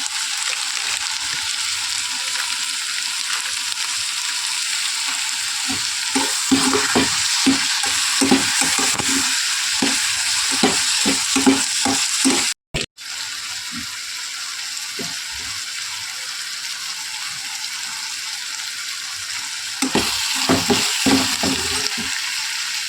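Onion paste with garam masala sizzles and fries in a pan while a spoon stirs it in repeated scraping strokes, steady and close, with a brief cut in the middle.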